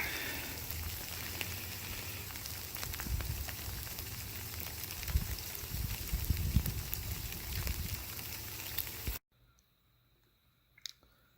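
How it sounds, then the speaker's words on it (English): Snow and sleet fall outdoors at night, a dense pattering and ticking of icy pellets that runs steadily for about nine seconds and then cuts to near silence. "So we can see the snow and sleet now coming down."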